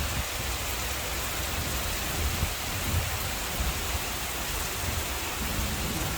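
Heavy rain pours down in a dense, steady hiss, loud and unbroken, with a faint low rumble underneath.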